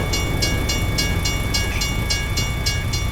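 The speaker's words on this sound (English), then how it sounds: "At least it was a small train." A small train rolls past in the American Truck Simulator video game, its wheels giving a steady, evenly spaced clatter over a constant low rumble, close and fairly loud with no talking.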